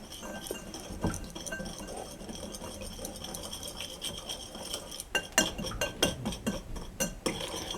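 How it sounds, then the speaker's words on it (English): Spoon stirring turmeric and black pepper powder together in a bowl for homemade curry powder, with soft scraping and clinks that grow sharper and more frequent toward the end. "Now I'm going to add some black pepper to that and mix it all together."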